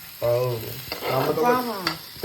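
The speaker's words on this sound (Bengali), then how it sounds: "তেল ছাড়া দেখছিস তেল ছাড়া এমনি ভাজা হয়ে যাচ্ছে" Turmeric, cumin, ginger and onion dry-fry in a pan without oil, hissing and crackling in short bursts while a voice is heard over it.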